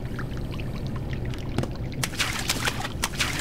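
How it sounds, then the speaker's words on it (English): Splashing water footsteps from a character wading through water in a Unity game, soft sloshing steps in a quick irregular rhythm over a steady watery background. "we should be able to hear water footsteps when we go into water"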